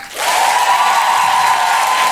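A comedy show audience bursts into loud, dense applause that swells quickly and holds steady as a thick roar of clapping filling the room.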